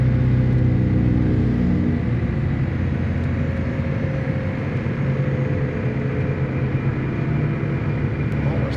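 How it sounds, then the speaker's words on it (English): A John Deere 9520RX tractor engine runs wide open at 2100 RPM, producing a loud, steady, unbroken roar that holds constant throughout. "We're wide open, 2100 RPM. There we go, we're setting power."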